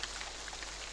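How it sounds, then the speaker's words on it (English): Rain falls in a steady soft hiss with scattered drops pattering, faint and continuous for a brief moment with no voices. "But then it began to rain. It rained for days and days."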